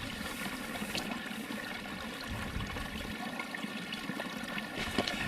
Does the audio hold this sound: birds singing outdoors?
no